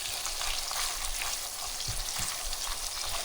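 Fatty 70-30 ground beef frying in a pan, a loud continuous sizzle with a few soft scraping stirs, no voices.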